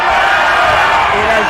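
A crowd at a high school boys basketball game between the Port Isabel Tarpons and the Hidalgo Pirates roars and cheers loudly in the gym, a dense continuous wall of voices with a commentator talking over it.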